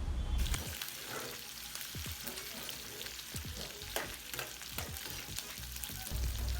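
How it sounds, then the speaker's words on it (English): Chopped meat fries in a pot for a stir-fry pasta dish, giving a steady close sizzle with occasional stirring scrapes and pops throughout, no voices. "chop my meat into small pieces and then go ahead to fry, okay, to give it a brown color"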